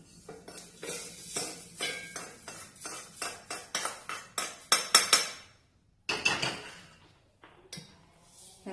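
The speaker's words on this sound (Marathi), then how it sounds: "आता हे आपण मिक्सरच्या भांड्यामध्ये काढून घेऊया" Cooked, roasted soybean scooped out of a pan into a steel mixer jar: a rapid series of metallic spoon clinks and scrapes in uneven rhythm, close and fairly quiet, pausing briefly before resuming.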